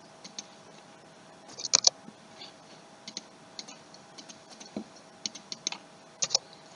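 Keys tapped on a computer keyboard while entering dimensions in AutoCAD, heard as sparse, irregular close clicks and short clusters of keystrokes against a quiet background with a faint steady hum.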